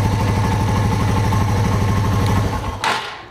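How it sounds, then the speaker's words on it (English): A Yamaha TW200 motorcycle engine runs at a steady, loud idle with an even thumping pulse, then cuts out with a brief rattle near the end, with no talk over it. "let's start up the engine and check out the oil level"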